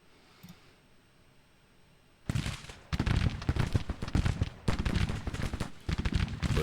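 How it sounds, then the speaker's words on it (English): Booming cannon blasts from an artillery battery in a Civil War strategy game, starting after a quiet stretch, then a rapid run of heavy overlapping shots with rumbling tails, loud and close. "There's no way in God's green earth I'm going to let that battery sit there and fire at us."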